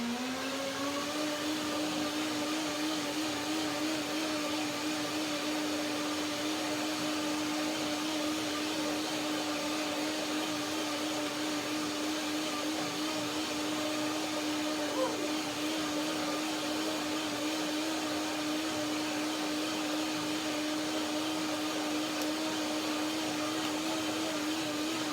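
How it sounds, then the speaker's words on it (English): A blender whirs continuously while blending a cashew cream dressing, a steady high motor drone with a constant pitch that runs unbroken and fairly loud, with no voices over it. "So now back to my dressing. One more blending."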